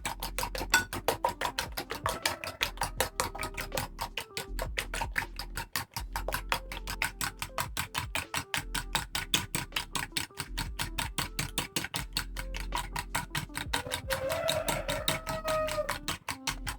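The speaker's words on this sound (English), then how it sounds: "Using a fork, I'm going to mix everything together." Rapid, rhythmic clicking of a fork whisking eggs with turmeric in a bowl, close and crisp, with steady repeated strokes and no voices.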